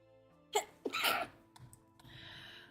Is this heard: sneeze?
yes